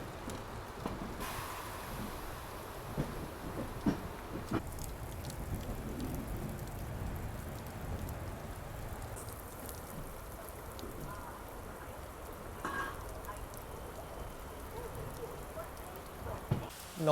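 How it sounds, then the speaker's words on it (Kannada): Monsoon rain pours steadily in the Shiradi Ghats, a dense continuous patter heard from close by, with a few faint knocks and no clear speech. "ನಾನ್ ಸ್ಟಾಪ್ ಮಳೆ ಒಳಗೇನೆ ಎಂಟ್ರ್ ಆದೀವಿ ರೀ"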